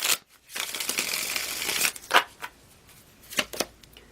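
Tarot cards being shuffled by hand, a long dense riffling burst followed by a few short sharp snaps and taps, close and clear with no talking.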